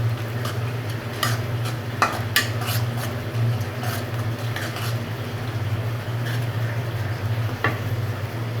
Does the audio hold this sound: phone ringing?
no